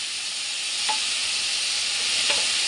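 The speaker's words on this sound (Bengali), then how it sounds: "এই দিয়ে আমি মশলাগুলোকে আগে কষিয়ে নিই" Ground cumin and other spices sizzle in a pan with a little water while being stirred, a steady frying hiss broken by a couple of soft scraping strokes. No one speaks.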